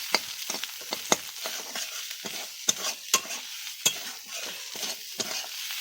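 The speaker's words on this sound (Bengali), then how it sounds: "এখন রান্না হচ্ছে থোড় দিয়ে মুসুর ডাল।" Masoor dal cooking with banana stem in a pan makes a soft background sizzle broken by repeated sharp scraping and clacking strokes of a spoon stirring, close and uneven in rhythm, with no talking.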